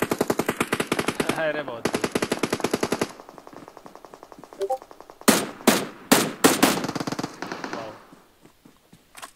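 Rapid automatic gunfire in the mobile game PUBG Mobile, loud, close bursts of rattling shots with pauses between them and a few sharp single cracks, with a player's voice talking over part of it.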